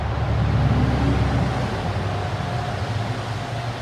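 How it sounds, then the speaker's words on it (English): A truck on a nearby highway passes as a loud, steady low rumble and whoosh that slowly eases off over a few seconds, with no voices. "And that was just a truck. We are very, very close to the highway."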